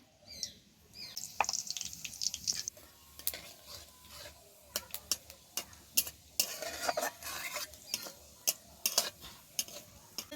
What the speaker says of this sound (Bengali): ফোড়নে দিচ্ছি গোটা জিরে আর শুকনো লঙ্কা